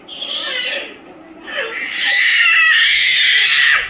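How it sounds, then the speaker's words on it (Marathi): A man lets out a loud, drawn-out shout at home in a playful yell, with a brief voice just before it and then a long, sustained, high-pitched cry. "बाबा असं ओरडतो."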